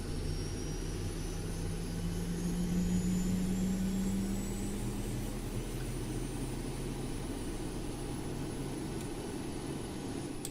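The jet engine of a Boeing 737-800 in the X-Plane 11 flight simulator runs up during start, a steady roar and hum with a rising whine, continuous throughout.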